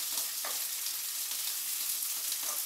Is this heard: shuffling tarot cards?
no